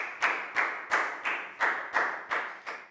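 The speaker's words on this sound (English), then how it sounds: "a big round of applause for Dan" Eight evenly spaced, sharp claps ring out in a steady rhythm as a class applauds a student during a Year 4 English lesson, each clap decaying quickly into a quiet room.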